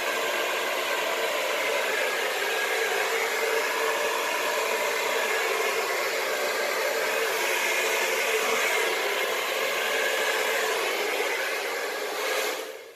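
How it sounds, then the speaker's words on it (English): A hair dryer blows steadily on a low setting, a continuous airy whir with no voices, cutting off abruptly at the end. "I'm going to get my hairdryer and just blow it out just a touch"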